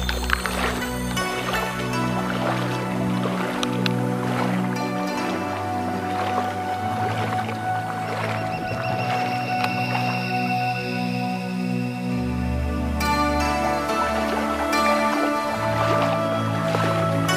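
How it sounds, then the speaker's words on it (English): Footsteps wade through muddy floodwater on a small rural road in Cambodia, with wet sloshing and squelching steps repeating at a walking pace over steady background tones and hum. "I'm still walking here in the water."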